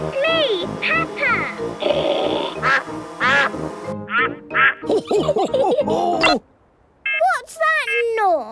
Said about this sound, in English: Here is Mrs. Duck